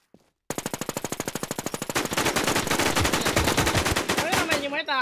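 Automatic gunfire in the PvP video game Warz LIMitz: after a brief pause, a long rapid stream of evenly spaced shots rattles loudly for several seconds, then ends with a short ringing tail.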